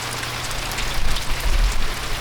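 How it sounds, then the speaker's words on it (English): Steady rain falls and patters on surfaces close by, a loud, continuous hiss with a low rumble underneath and no voices. "It's raining."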